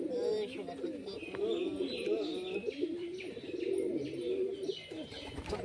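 Pet pigeons of the teddy variety coo steadily in low, rolling, overlapping calls, close and continuous, with light chirps and occasional wing flutters mixed in.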